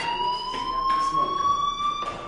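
A fire alarm in the Life is Strange video game gives a steady, slowly rising electronic tone with a faint pulsing quality, fairly loud and continuous, with a muffled voice briefly underneath.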